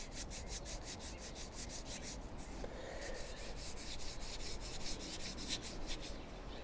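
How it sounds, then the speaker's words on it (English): Steady rhythmic strokes of sanding grain filler on an LP-style guitar body, a close, even scratchy rubbing that repeats for several seconds with no talk. "get going on getting this thing sanded down"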